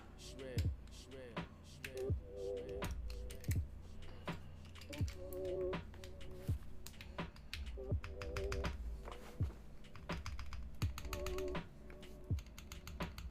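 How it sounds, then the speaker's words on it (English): Typing on a Bakeneko mechanical keyboard, a steady run of close, crisp clacky keystrokes with heavier presses mixed in, continuing without pause for the whole stretch. "The backspace is so much clackier than the enter."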